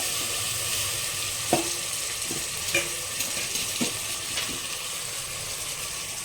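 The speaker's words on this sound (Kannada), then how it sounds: "ಕಟ್ ಮಾಡಿರೋ ತರಕಾರಿ ಇದನ್ನೆಲ್ಲ ಹಾಕೋತಾ ಇದ್ದೀನಿ" Chopped vegetables frying and being stirred in a pan for a mushroom kurma, a steady soft sizzle with a few light clinks of a utensil against the pan.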